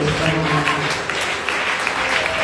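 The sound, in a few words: church congregation applause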